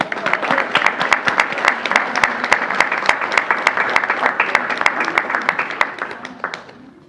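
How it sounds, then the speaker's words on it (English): Audience applause at a school board meeting, sharp distinct claps from a modest crowd ringing out in a brisk, uneven rhythm for several seconds before tapering off near the end. "One more round of applause"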